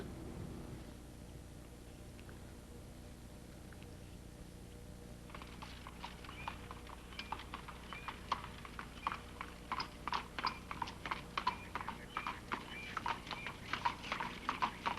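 Horse-drawn carriage ride with hooves clip-clopping on the road, starting after a few seconds of quiet and then keeping a steady, even rhythm at moderate distance, with no talking.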